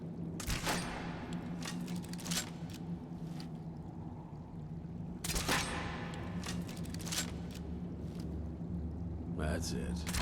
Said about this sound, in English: Just take a few shots at those crates over there.